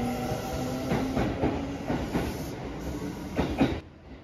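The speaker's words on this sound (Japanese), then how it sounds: "まずは乗ってきた赤色塗装の列車を見送りたいと思います" A red-painted train departing a station, rolling along with a steady clickety-clack of wheels over rail joints, moderately distant, before the sound drops away.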